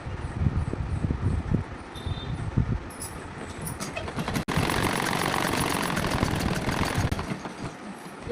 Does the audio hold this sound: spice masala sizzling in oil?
no